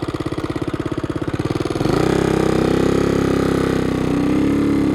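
A motorcycle engine idling with a steady rapid thump, then revving up to a louder, smoother roar that holds for several seconds, close by with no talking.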